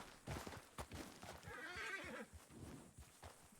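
A horse in the Red Dead RP game whinnies loudly mid-clip, surrounded by clopping hooves and brief thuds, with no talking.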